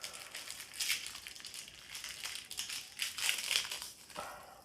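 A package of sneaker deodorizer pellets from a Crep Protect care kit is opened up close, giving a steady stretch of crinkling, crushing plastic rustles that swell and fade over several seconds with no talking.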